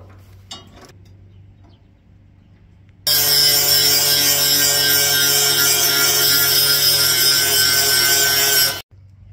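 A dull grass-cutting tractor blade being sharpened with a power tool, a loud, harsh, continuous grinding that starts abruptly, runs steadily for several seconds and stops sharply, after a few quiet clicks.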